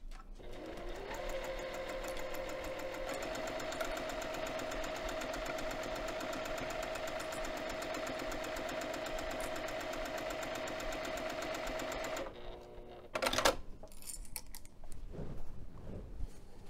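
A sewing machine runs fast and steady, stitching the raw lower edge of a bag side pocket for about twelve seconds, then stops, followed by a few brief handling knocks and rustles.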